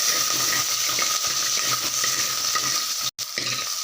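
Onions frying in sesame oil in a hot pan for a village-style snakehead fish curry, a loud steady sizzle with stirring scrapes throughout and a brief gap near the end; no talking.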